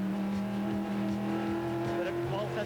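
A touring race car at full speed during Bathurst qualifying, its engine holding a steady loud high drone and shifting pitch as it climbs through gears, with a commentator talking over it throughout.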